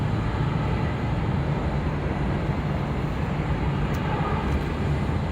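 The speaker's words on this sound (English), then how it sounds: "Do actually have a couple heavies taxiing up here to the north side" Heavy jet airliners taxiing at LAX, including a Delta 767-300ER, produce a continuous dense broadband roar heard from a distance, steady and unbroken throughout.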